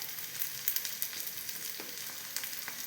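Onions frying in a pan for an erissery of chana dal, a continuous close sizzle with faint scraping clicks from stirring, no voices.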